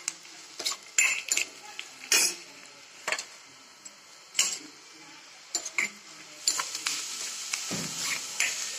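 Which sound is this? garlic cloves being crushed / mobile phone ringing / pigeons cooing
garlic cloves being crushed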